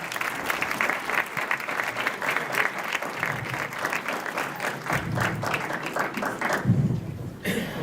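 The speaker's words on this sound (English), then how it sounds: "If we could please give them a round of applause." A school audience applauds steadily at a State of the Schools event, dense sustained clapping filling the room for several seconds and tapering near the end.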